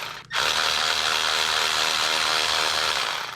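An automatic ratchet with a socket loosens water pump bolts on a Corvette, giving a loud, close, continuous rapid clicking that runs steadily for a few seconds after a brief pause.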